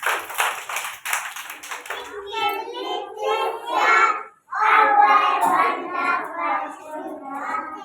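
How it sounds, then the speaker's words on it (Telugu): Anganwadi preschool children clapping their hands in a classroom, a run of quick, fairly loud claps at the start followed by children's voices and chatter. "క్లాప్స్ కొట్టండి గట్టిగా."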